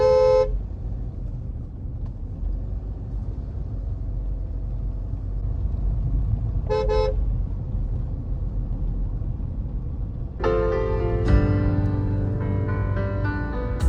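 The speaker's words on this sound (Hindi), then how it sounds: "हॉर्न सबसे जरूरी है, ताकि सामने वाले को पता चल जाए कि कोई गाड़ी है।" Car horn on a drive up a curvy ghat road near Netarhat, two short honks separated by several seconds, then a longer, louder blast with another horn joining, all over a steady low engine and road rumble.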